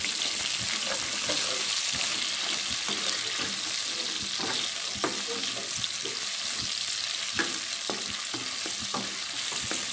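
Onions fry in a pan for prawn sambal, a continuous bright sizzle with frequent small ticks and scrapes of stirring, close and even throughout, with no talking.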